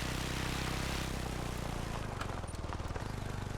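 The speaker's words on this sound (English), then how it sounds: "I think it was a plane I heard." A propeller airplane drones steadily overhead in the hunting game theHunter: Call of the Wild, a low continuous engine hum with a throbbing, slightly wavering tone that shifts partway through, no voices over it.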